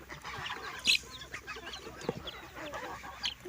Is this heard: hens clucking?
yes